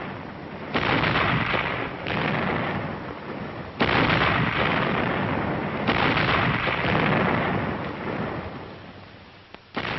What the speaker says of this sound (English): A synchronized barrage, with the entire regiment backing up Glamour Gal as she blistered the paint off her tube